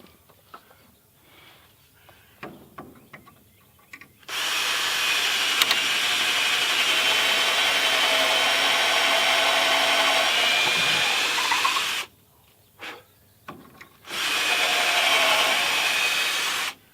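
A power drill drives lag bolts into a wooden truss for a cheap sawmill-lumber shed. The motor whirs loudly and steadily in one long run of about eight seconds, stops, then runs again briefly, with quiet handling noises between.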